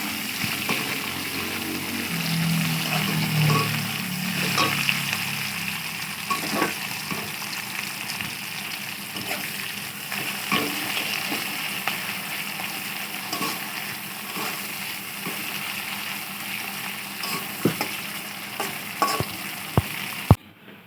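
A large chopped onion fries in a pan with a continuous close sizzle, broken by scattered stirring clicks and scrapes that grow sharper near the end, with no talking.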